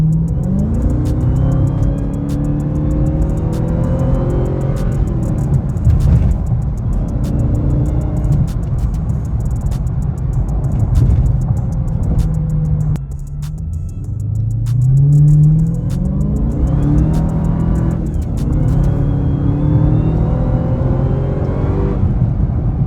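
A 50th Anniversary Dodge Charger Daytona Widebody is driven, its engine droning loud and steady with rising and falling rev sweeps as it accelerates and shifts.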